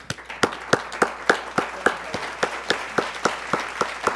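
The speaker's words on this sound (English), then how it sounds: "Let's give them a round of applause" Rhythmic, evenly spaced clapping from a small group after a school quiz-bowl team game, about fourteen sharp claps in steady succession, moderately near and fairly quiet, with no talk over it.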